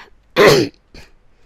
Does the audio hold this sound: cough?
yes